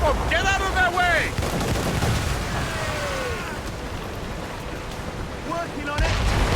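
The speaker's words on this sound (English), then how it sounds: "They're firing a volley!" Ship cannons fire a volley during a naval battle in Assassin's Creed Rogue, with heavy booms over ocean waves and surf, while shouting voices and harmonic calls cut through in the foreground.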